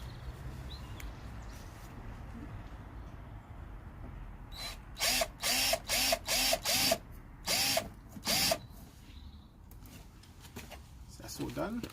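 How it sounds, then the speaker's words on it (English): A power drill bores screw holes through a BMW F32's front bumper and universal lip chin: seven short bursts of whining drilling come in quick succession, each rising and stopping, between stretches of quieter background with talk. "So I'm just drilling the hole through them so I know where the screws will go in."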